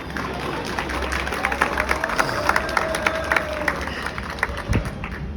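An audience claps continuously through a Republic Day speech event, a fairly loud, dense patter of hands with crowd murmur and no speech over it.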